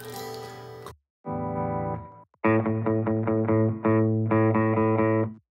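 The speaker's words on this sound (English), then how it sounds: "the first one is actually a spring, which is your standard" Electric guitar chords ring through a Line 6 Catalyst 60W combo amp with a springy reverb tail, strummed in short rhythmic stabs with brief gaps between.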